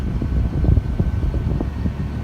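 A 2001 Toyota Tundra work truck with a quarter million miles idles steadily, giving a low, even engine rumble heard from inside the cab with faint fan-like hiss.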